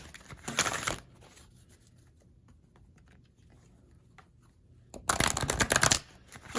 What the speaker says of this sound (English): I keep forgetting to shuffle on camera.